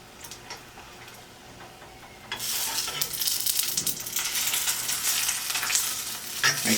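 A tortilla fries in hot oil in a pan for a fajita meal. It starts as a quiet crackle, then turns into a sudden loud, steady sizzle with spattering pops, close up and without speech.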